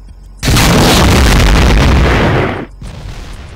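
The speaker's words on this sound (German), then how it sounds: "wenn das Ding aber gleich explodiert, das fängt schon an zu dampfen" A sudden, massive boom erupts in the video game Factorio (modded) and roars loudly for about two seconds before cutting off, leaving a lower rumbling hiss behind.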